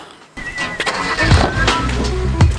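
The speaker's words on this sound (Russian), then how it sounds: "такси едет." A taxi car arriving, its engine rising from silence into a close, steady running rumble with a few bumps and rattles, fairly loud throughout.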